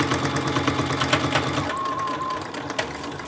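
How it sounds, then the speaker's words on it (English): A sewing machine stitches across a thick jeans seam, its steady rapid motor chatter close and loud throughout, with a brief slowing as it climbs the layers of denim. "when you're going to get going over a thick seam like jeans. And you just sew."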